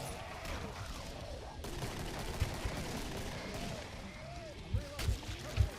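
Gunfire from a weapon in the video game Killing Floor, several sharp shots popping near the end over a dense, noisy game soundscape, with a voice talking underneath.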